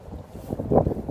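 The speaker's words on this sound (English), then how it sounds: "Sorry about the wind. I know it's very windy." Low, blustery rumble of wind buffeting a microphone, swelling and fading unevenly over a second with a stronger gust near the end.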